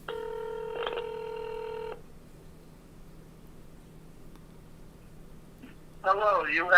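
A telephone call tone sounds steadily for about two seconds, then a quiet line hiss follows before a voice begins speaking from a voicemail greeting.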